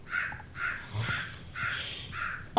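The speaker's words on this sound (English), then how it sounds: "Crow. The crow." A crow caws five times in a steady series, each call harsh and moderately close, with faint background noise and no speech.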